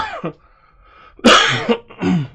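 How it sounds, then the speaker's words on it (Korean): A person coughs a few times in short, sharp bursts, close and fairly loud, with brief quiet gaps between them. "시작과 동시에 기침이네요."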